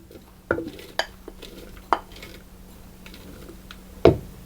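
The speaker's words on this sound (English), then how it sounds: "I'm just going to give those a little stir around" A spoon stirs ingredients for rice pudding tarts in a bowl, giving several sharp, separate clinks against the side over a quiet background.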